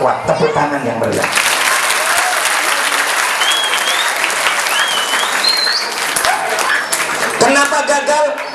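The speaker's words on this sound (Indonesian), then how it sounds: "Tepuk tangan yang meriah." Junior high school students at a religious gathering in Salatiga break into loud, lively applause, a dense sustained clatter of clapping with cheering voices on top, and someone speaks briefly before and after.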